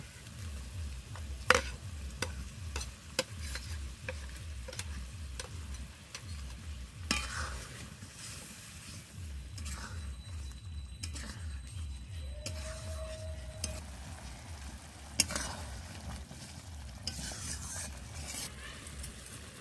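Fried fish going into a pan of spinach and prawn gravy with a splash of water: a low, rhythmic bubbling simmer with occasional sharp clinks and scrapes of a utensil, fairly quiet and close.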